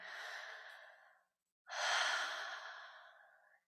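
Slow, relaxed breathing after a vocal breathing exercise: one long airy exhale fading out, a short pause, then a fuller breath that tapers away, close and quiet with no talking.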